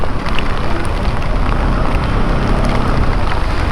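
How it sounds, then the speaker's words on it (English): Rain falls during a long-distance bike ride on arrival in Shivamogga, a steady, dense hiss of drops that stays loud and even throughout, with no talking. "As soon as we reached, it started raining."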